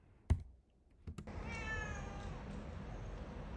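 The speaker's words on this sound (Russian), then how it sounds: "А вот это у нас есть домовая кошка." A house cat living by an apartment building entrance gives a few close meows after a couple of sharp clicks, over a steady background hiss.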